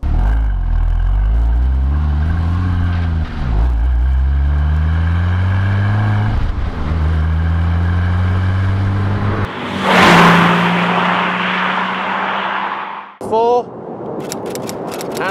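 A Porsche Boxster engine revs hard while accelerating, rising in loud, climbing sweeps through several gear changes, ending in a sharp burst and crackle.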